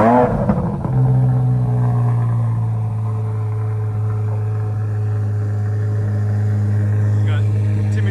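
A 670 hp 2024 Chevrolet Corvette Z06 idling as it warms up in a cul-de-sac, a steady, loud, low engine drone after a brief rev at the start, with a voice briefly over it.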